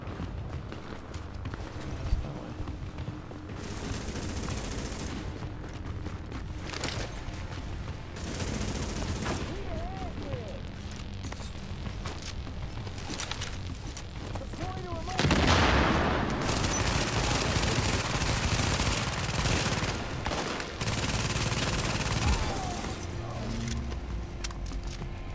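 An automated turret in the shooter game The Division fires sustained bursts of gunfire, with rattling volleys that run throughout and swell louder midway, mixed with other in-game noise.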